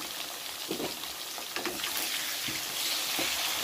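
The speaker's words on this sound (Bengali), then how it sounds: "সব কটা আলু আমি তেলে দিয়ে দিচ্ছি" Diced potatoes sizzling in hot oil in a pan, a steady dense hiss throughout with faint clinks and stirring noises on top, close and fairly loud.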